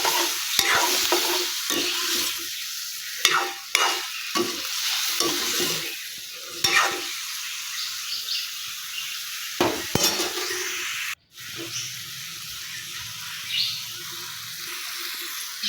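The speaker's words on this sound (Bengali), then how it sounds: "দিয়ে আমি নাড়াচাড়া করে নিচ্ছি।" Fried cauliflower and potato are stirred with ginger and cumin paste and a splash of water in a pan, with a steady sizzle and repeated scraping strokes at close range, then a pause and softer frying.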